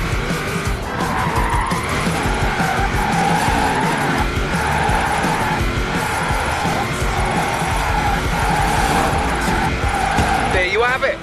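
Car drifting with prolonged tire skid and squeal in Forza Horizon 4, engine roaring loud and steady throughout with repeated rising-falling revs, a voice talking over it.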